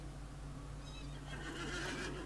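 A horse mount in The Lord of the Rings Online in a cold, snowy area gives a faint whinny over steady game ambience, rising toward the end.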